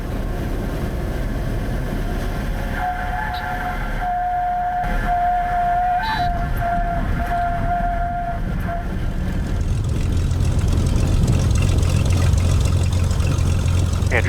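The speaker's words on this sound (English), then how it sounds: "All right, need to land this plane." A small propeller plane on landing, its engine droning steadily with a thin whining tone in the cabin, then a louder low rumble as it rolls out on the runway.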